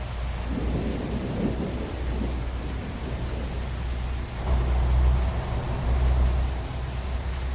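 Rumbling thunderstorm in the trucking game Truckers of Europe, deep rolling thunder over steady rain, swelling louder midway and continuing without voices.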